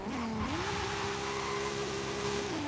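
A 1600 HP drag-tuned 1998 Toyota Supra in Forza Horizon 5 launching from held revs as handbrake and clutch drop, its engine note dipping then climbing into a loud, steady roar, close and continuous with no talk.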